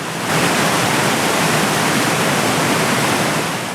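A river rushing over rocks upstream gives off a loud, steady roar of crashing water that holds constant and close throughout, with no voices.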